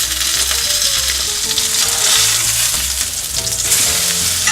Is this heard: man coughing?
no